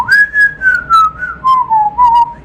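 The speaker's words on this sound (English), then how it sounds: "I'm trying to whistle it, and it doesn't sound great" A person whistles a melody for a Christian indie rock song, clear and close, in a series of short phrases that slide gently downward in pitch.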